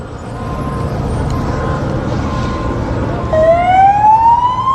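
An emergency truck siren at night in Los Angeles, rising into a loud wailing tone over a steady traffic roar as the vehicle closes in, with no voices.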